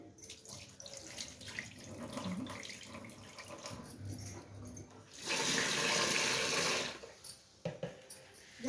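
Rice washed two or three times in water, a close splashing and rinsing, quiet swishes at first, then a few seconds of steady running water before scattered drips and clatter.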